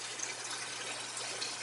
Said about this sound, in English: As I'm refilling this tank, I tend to take my refill hose and blow it around over these rocks